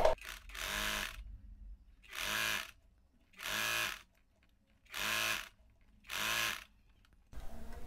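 A sewing machine stitches the ruffled margin of a saree in five separate bursts of buzzing motor whir, each lasting about a second with short quiet pauses between, close by.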